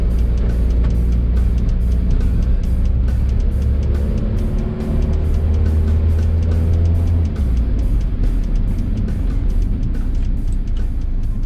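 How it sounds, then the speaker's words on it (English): Steady, loud engine drone and road rumble from inside a London taxi on a national speed limit road, with the pitch gradually climbing as it accelerates and a rapid regular ticking running throughout. "So we're going on a national speed limit road in my taxi"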